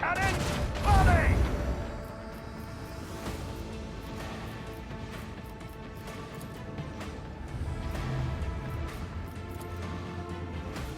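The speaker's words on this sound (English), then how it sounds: "Macro cannon, volley!" A macro cannon volley fired from a starship in Warhammer 40000: Rogue Trader, a heavy boom at the start followed by a sustained rumbling, mechanical battle din with scattered impacts and tonal music underneath.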